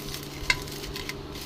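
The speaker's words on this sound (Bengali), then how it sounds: "সব একসাথে আমি মেখে নেব।" Fried prawns, fried chillies, fried onion and salt are squeezed and mixed together by hand for a prawn bharta, making soft close-up squelching and stirring with one small sharp click.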